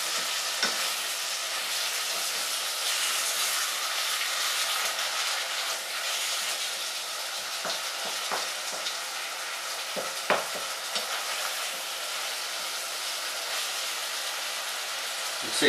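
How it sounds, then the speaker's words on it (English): Minced meat browns in a non-stick pan without added oil, giving a steady, loud sizzle and hiss throughout, broken by occasional scraping stirs. "Start to brown it nicely there."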